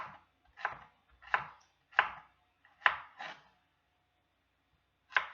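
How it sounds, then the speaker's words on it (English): A knife chops vegetables for a salad, such as radishes, green onions, celery and peppers, on a board in sharp, close, irregular strokes separated by brief pauses. "This is the last one to chop."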